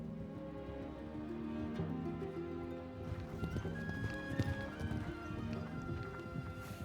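Horse hooves clip-clop steadily at a walking pace, with a horse whinnying and faint voices in the background.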